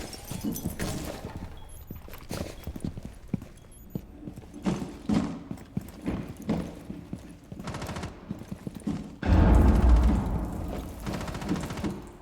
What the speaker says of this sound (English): Bro, I can hear you stomping around.